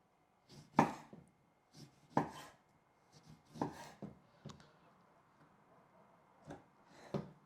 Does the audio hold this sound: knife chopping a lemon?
yes